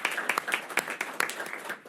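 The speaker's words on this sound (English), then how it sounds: "Please give yourselves a round of applause." Applause from an audience at a city veterans advisory board meeting, a dense patter of many hands clapping at close range without talk.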